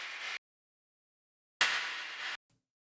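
Noisy synthesized claps pass through a Plateau reverb that is sidechained by an inverted envelope, so the sound comes in abrupt bursts. A short burst is followed by a gap, then a longer swelling wash that stops sharply, with no talking.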